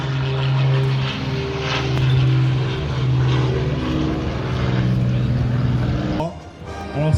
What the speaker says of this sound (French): Le premier avion c'est un Norwegie 112 de 49, les autres c'est 4 Piper avec les marquages, les 3 bandes blanches.